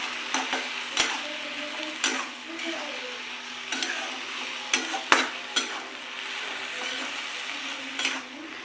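Village okra cooked in yogurt is stirred in a hot pan: repeated spoon scrapes and clinks against the pan over a continuous gentle sizzle, close and fairly even in rhythm.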